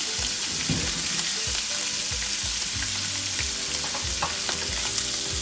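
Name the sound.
ndakala small fish frying in oil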